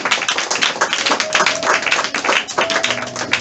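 A church congregation clapping in praise during a worship service, dense rhythmic handclaps sustained throughout, loud and close, with faint voices underneath.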